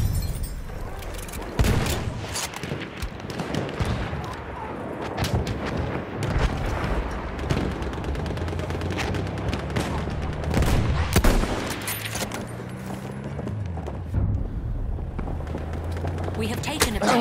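Enemy artillery booms and scattered gunfire in Battlefield 1, dense rumbling blasts and crackling shots layered throughout, with an in-game voice calling out over the din.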